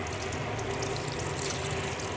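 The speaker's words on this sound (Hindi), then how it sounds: "अब इनको पानी देते हैं।" Water is poured gently over the soil of a newly planted money plant, a soft continuous splashing wash that runs evenly and close throughout.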